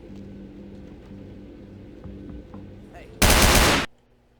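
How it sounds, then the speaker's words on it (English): In the video game Vampire The Masquerade Bloodlines, a single loud burst of rapid gunfire, like a machine gun, cuts in near the end over quieter game ambience and then stops abruptly. "Who's shooting at us?"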